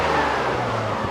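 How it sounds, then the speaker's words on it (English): A BMW engine revs after a coil pack swap on a car being worked on, a dense steady engine roar up close with a slight shift in pitch partway through, no talking. "Give her a rev."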